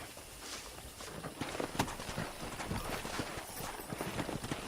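Horse hooves clip-clop in a quick, uneven rhythm on hard ground in Red Dead Redemption, fairly faint, with light background ambience and no talking.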